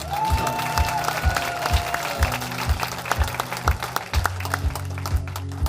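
A crowd at a concert in New Albany, Indiana claps loudly amid steady music with a thumping beat; the clapping is dense and sustained through the whole stretch.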